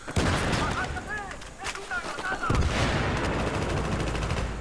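Gunfire and an M320 grenade in the video game Battlefield 3: rapid bursts of shots and heavy booms crowd the scene, with a player talking over the noise.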